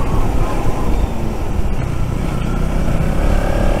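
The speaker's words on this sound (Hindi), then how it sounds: "हमारी तीन बाइक्स आई हैं, एक तो अपनी नोवा मीन्स ये अपनी ड्यूक 200 और एक NS 200" A KTM Duke 200 and Bajaj Pulsar NS 200 climb a hill road, their engines giving a continuous loud rumbling drone mixed with heavy wind buffeting on the onboard microphone, with no break in the noise.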